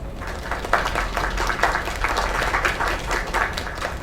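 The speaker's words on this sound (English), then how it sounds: "Another round of applause." Steady applause from a crowd in the video game Lake, dense clapping holding at an even level throughout with a faint murmur underneath.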